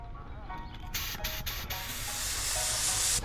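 A steady aerosol spray of adhesion promoter hisses close by in bursts that build into a long continuous spray, loud and airy with no talking.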